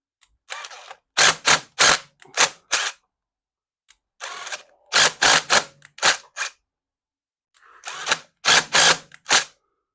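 Short bursts from an impact wrench driving a chain rivet tool on a D.I.D 530 VX3 Gold motorcycle chain, three clusters of rapid loud rattling hammer blows separated by pauses, close and with no talk.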